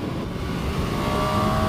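A Yamaha MT-09 motorcycle engine revving hard near its redline around 12,000 rpm, a loud steady engine roar that holds throughout without a break.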